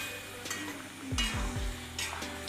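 A spoon stirs cooked yam in a pot after the pressure cooker has whistled, scraping and sizzling softly in a few close strokes with light clinks against the pan.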